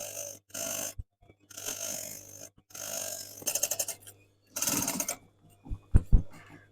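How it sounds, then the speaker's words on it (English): A domestic sewing machine runs in several short bursts while back tacking the end of a seam on fabric tie backs, stopping and starting with brief pauses, close and clear without talk. "Back tacking at the end."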